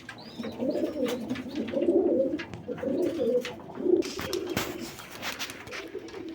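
Pigeons, a black-and-white breed kept for flying, coo in low repeated bursts from close by on a rooftop loft, with a few faint higher chirps and small rustles mixed in.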